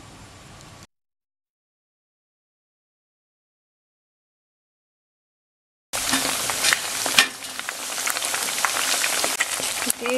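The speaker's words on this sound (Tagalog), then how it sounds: "Then, ipa-fry na natin yung ating chicken." Chicken pieces for Japanese-style karaage dropped into hot cooking oil: a brief noise, several seconds of near silence, then a loud, dense, crackling sizzle that runs steadily to the end.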